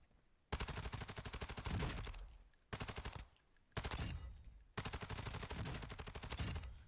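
Rapid automatic rifle fire in Call of Duty DMZ, several sustained bursts of loud, close gunfire separated by brief pauses, with no talking.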